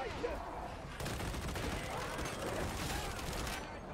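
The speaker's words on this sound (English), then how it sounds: "what you can also do is just hip fire for the rages." Rapid continuous gunfire from hip-fired weapons in the video game Darktide, a dense rattling barrage that stays loud throughout with a slight shift partway, with a voice faintly present underneath.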